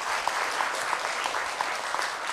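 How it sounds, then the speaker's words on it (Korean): A congregation at a Buddhist temple service claps together, a brief, even burst of many hands filling a hall, steady from start to finish. "우리 여의도 신도님들에게 여의도 포교 신도님들에게 박수 한번 주세요"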